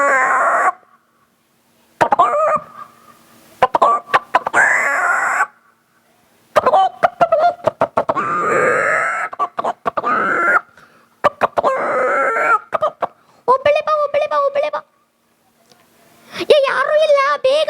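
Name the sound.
voice imitating a rooster calling a hen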